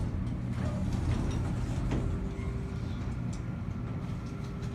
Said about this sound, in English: These are old SchindlerHaughton elevators, which are quite rare